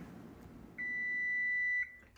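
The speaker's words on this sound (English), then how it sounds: "the timer is going off" A kitchen timer goes off for a baking cinnamon swirl coffee cake, giving one steady, clear electronic beep that holds for about a second in an otherwise quiet room.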